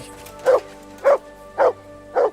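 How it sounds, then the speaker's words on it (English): A dog in the medieval video game Kingdom Come: Deliverance 2 gives four evenly spaced, fairly close barks against a quiet background. "Good dog, mate."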